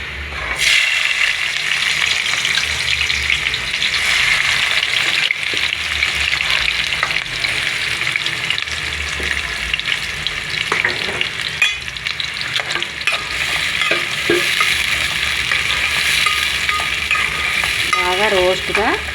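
Onions fry and get stirred for goat head curry, a steady loud sizzle filling the whole stretch with scraping stir strokes throughout and no voices.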